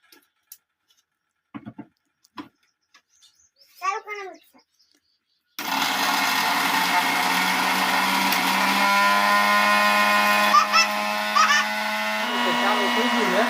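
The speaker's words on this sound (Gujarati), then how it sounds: "ફાઇનલી મિત્રો આપણું જો મિક્સર આવી ગયું છે, અને આમાં દરવાનું છે" After a few seconds of talk and light handling noise, an electric mixer grinder grinding drumstick leaves into powder starts abruptly and runs loud and steady with a whining hum to the end.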